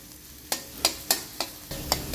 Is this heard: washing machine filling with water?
no